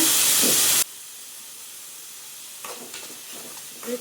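Chillies frying in a pan for an egg dish give a loud, close burst of sizzling for under a second, then drop to a faint, steady hiss broken by a few soft stirring scrapes.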